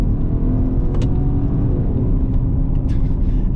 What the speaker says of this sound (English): when I go to accelerate